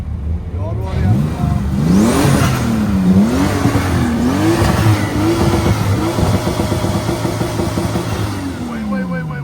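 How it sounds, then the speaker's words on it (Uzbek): The engine of a new Honda Civic revs loudly and close by, its pitch climbing and falling over several blips before it settles into a steady idle. Voices talk over the engine. "Bu Honda Civic yangisi."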